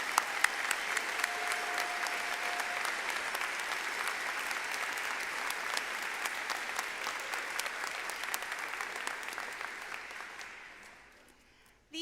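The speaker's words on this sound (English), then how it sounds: "let's do one more round of applause showing our appreciation for everyone" Sustained applause from a large audience at a university undergraduate commencement ceremony, dense steady clapping throughout that fades out near the end.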